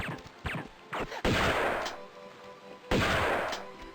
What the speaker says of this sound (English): I'm just gonna get my shotgun.